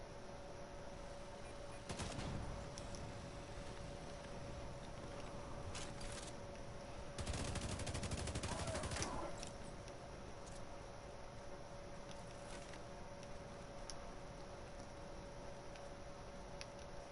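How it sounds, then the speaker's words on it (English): Gunfire in The Division 2, with several short bursts of automatic shots, one longer volley in the middle, set against a steady low game hum and faint background sounds. "I could have sworn there was somebody shooting"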